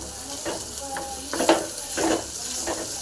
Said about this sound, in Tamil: இது இடித்த பூண்டு போட்டுங்க. அப்புறம் கருவேப்பிலை நல்லா அப்படியே அதை ஃப்ரை பண்ணிங்க.